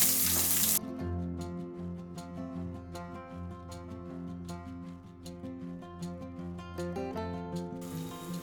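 Chopped onions, cumin and mustard seeds frying in hot oil in a pan, a steady close sizzle with small popping crackles throughout, alone without talk.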